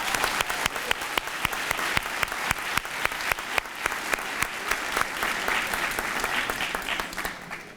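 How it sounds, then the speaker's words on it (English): Steady audience applause at a middle school honor society ceremony, a dense wash of many hands clapping with sharp individual claps standing out, sustained and fairly loud throughout. "Let's give grade 5 a round of applause,"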